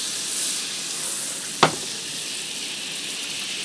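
Butter and bacon grease sizzle in a pan with a steady frying hiss, interrupted once by a sharp clack of a utensil against the pan.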